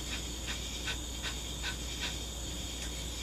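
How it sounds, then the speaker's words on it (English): Kapalabhati breathing in yoga practice, with a run of short, forceful exhales pumped out by the abdomen at a quick even rhythm, about eight sharp puffs, close but faint. "The pranayama that we're going to do is kapalabhati, which is strong exhales."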